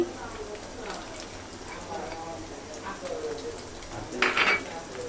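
Garlic, cumin and ginger paste frying over lowered heat in a pan while being stirred for an egg korma, with a soft steady sizzle, scraping, and a sharp clink of a utensil on the pan near the end; a voice talks throughout.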